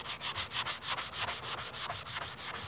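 A Dollar Tree tool bench sanding sponge rubbed hard back and forth on a workpiece, a close, loud, quick regular scratchy rasp of about four strokes a second.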